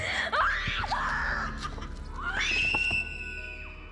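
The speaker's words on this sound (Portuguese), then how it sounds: "Harry Potter ficou desesperado quando ouviu Hermione gritar." A woman screams loudly in a dramatized Harry Potter scene, two long, close, anguished cries separated by a brief pause.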